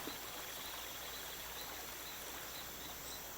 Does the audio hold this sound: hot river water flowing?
yes